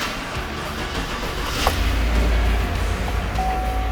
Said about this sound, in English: Then we'll start the car